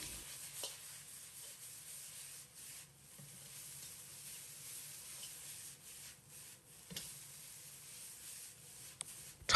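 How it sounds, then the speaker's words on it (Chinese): Pork belly stir-fried over high heat in leftover braising sauce with preserved mustard greens, a steady low scraping and rubbing of spatula against the wok with a soft sizzle underneath, a few sharper clacks scattered through, no talk. "倒入刚才剩下的汤汁，继续开大火翻炒均匀"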